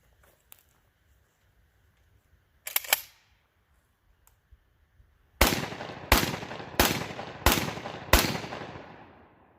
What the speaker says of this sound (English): here's a mix of number 5 and number 6 birdshot, 12 gauge by the way.